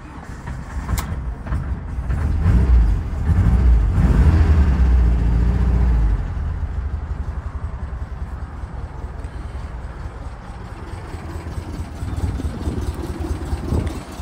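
A 1961 VW Combi Doka air-cooled engine with a Vintage Speed exhaust cranks and catches, swelling into a loud low rumble for a few seconds, then settles into a steady, throbbing idle close by.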